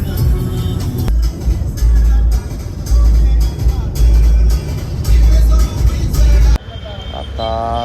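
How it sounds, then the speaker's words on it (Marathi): A car moves through traffic, heard from inside the cabin, with heavy low rumble surging in repeated bursts and engine and road noise throughout, then easing near the end. "दादा गाडी चालवतोय."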